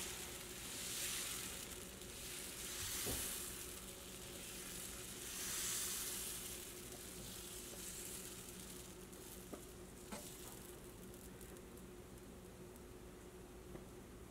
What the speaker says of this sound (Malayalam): ഇനി നല്ല കനം കുറച്ചിട്ട് ഇതാ ഇങ്ങനെ സെൻറ്ററിൽ നിന്ന് പരത്തി പരത്തി പരത്തി പരത്തി കൊണ്ടുപോകും